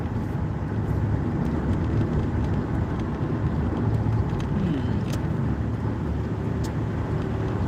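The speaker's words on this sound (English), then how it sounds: "Looks like I'm catching the morning work traffic." Steady morning work traffic rolls past at a distance, a continuous broad rumble of cars with no pauses and no talking over it.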